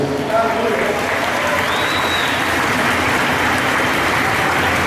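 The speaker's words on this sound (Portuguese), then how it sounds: "aplauda esse Deus maravilhoso" Dense, steady applause from a church congregation during a sermon, continuous and fairly loud throughout with no pauses.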